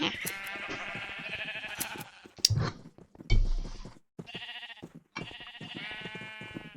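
Sheep in the video game Minecraft bleat several times in a row, loud and close, with wavering cries broken by short gaps and a couple of thumping impacts in between.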